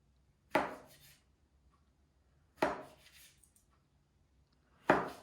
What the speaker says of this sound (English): So she put the flat side down and she's slicing it.